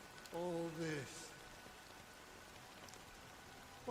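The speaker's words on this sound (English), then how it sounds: "it's still raining." Rain falls steadily in the video game Honkai: Star Rail, a soft continuous patter beneath a brief voice at the start and another at the end.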